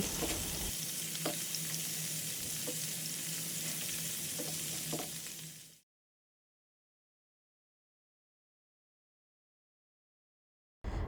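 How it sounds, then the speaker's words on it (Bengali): Fish frying in mustard oil gives a loud, steady sizzle with a few stirring clicks. It stops abruptly about halfway through, then near silence follows until a brief burst of sound returns at the very end. "এই যে সরিষার তেল দিয়ে মাছগুলো আমি ভেজে নিচ্ছি"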